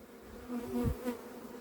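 A honey bee swarm hums steadily around a cardboard box, close and continuous, with one louder buzz as a bee passes near.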